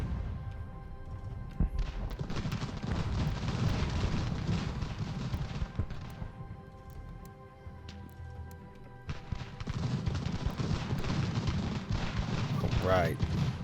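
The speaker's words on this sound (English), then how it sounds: "That's a little concerning, that artillery." Booming artillery fire and battlefield rumble from the Ultimate General: American Revolution strategy game, with dull thuds rolling under a steady low roar, mostly continuous, and a brief lull near the middle.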